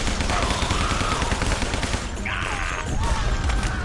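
Rapid gunfire rattles in the video game Guns, Gore and Cannoli, with dense bursts of shots layered over game music and effects, loud and continuous with a brief lull midway.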